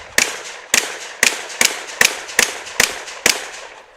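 Eight sharp gunshots ring out at a competitive shoot-off, spaced about half a second apart in a steady cadence, loud and close with quick decays and no talking.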